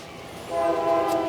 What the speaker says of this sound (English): there's a train coming by now